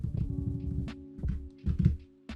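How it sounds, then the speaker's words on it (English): A few dull knocks on a hard surface, spaced unevenly over a steady low hum, fairly close. "Now I'm tapping on the desk."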